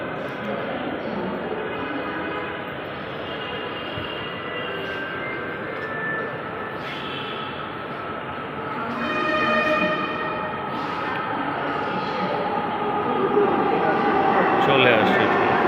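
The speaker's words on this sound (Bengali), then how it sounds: "চলে আসছে, দেখা যাচ্ছে দূরে, এখনই ট্রেনটা আসবে।" A Dhaka metro rail train draws into an elevated station, its electric motor whine and rising rumble growing louder toward the end, with a faint tonal squeal partway through and steady platform hum underneath.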